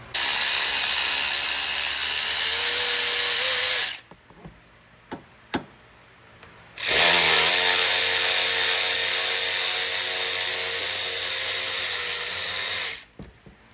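A power tool whirs on bolts of a Ford Escape in two long loud bursts, with a few metallic clicks and clanks of tools in the pause between them.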